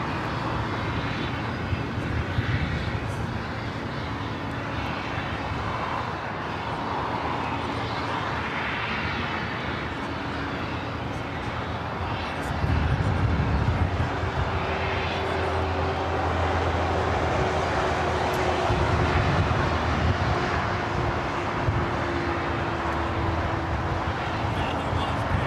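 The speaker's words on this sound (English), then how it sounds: "Next takeoff, Air Canada, flight 559, heading to Vancouver, 737 at max 8." An Air Canada Boeing 737 MAX 8 taking off at LAX, a loud, sustained jet engine roar that swells midway and holds, heard at a distance with people talking over it.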